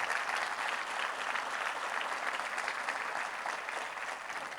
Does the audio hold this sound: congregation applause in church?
yes